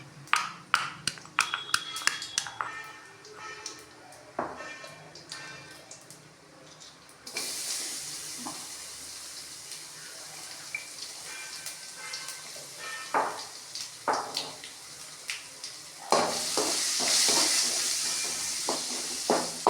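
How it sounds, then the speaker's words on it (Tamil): Crushed ginger and garlic sizzle in a hot pan, a steady frying hiss with scattered clinks and stirring clatters that grows louder toward the end. "கொஞ்சம் நல்லா வதங்கணும் பூண்டு இருக்குல்ல அதனால கொஞ்சம் நல்லா வதங்கணும்"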